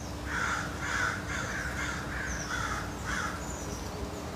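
Crows caw outdoors in a steady series of about eight harsh calls at a regular pace, moderately distant over a low background hum.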